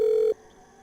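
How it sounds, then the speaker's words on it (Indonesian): A telephone call failing in the horror video game Harmony of Fear: a loud, steady electronic tone holds for about a third of a second, then cuts off abruptly, leaving a faint hum. "Duh, kacau, gak bisa nelpon, Blay."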